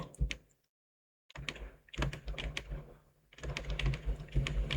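Keys on a computer keyboard are pressed while using AutoCAD, giving close clusters of clicky taps separated by a short silent gap.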